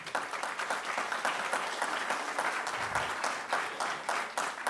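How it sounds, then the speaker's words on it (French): Sustained applause from a conference audience at an economic forum roundtable, steady dense clapping throughout with no talk over it. "I hope you heard the audience applauding you."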